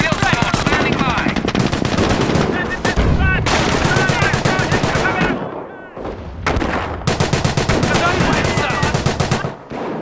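Heavy German machine-gun and rifle fire rattles in rapid, dense bursts during a World War II battle in the Company of Heroes video game, with loud cracks and explosions and a brief pause partway through.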